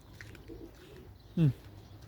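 A single short pigeon coo rises clearly near the middle, over a quiet outdoor background with faint ambient noise.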